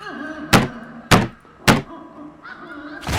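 Repeated heavy thuds of a locked bedroom door being forced and smashed open in a horror video game, three loud slams about half a second apart, with a fourth impact starting at the end.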